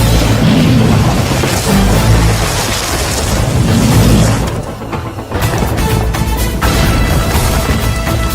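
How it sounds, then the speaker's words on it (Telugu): Bomb explosions from a Telugu comedy film scene roar loud and continuous, a dense booming rumble that dips briefly midway before surging back, with no talk over it. "బాంబులు ఆపుండ్రి."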